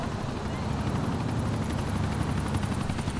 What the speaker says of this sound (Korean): 위에 헬기가 지나가고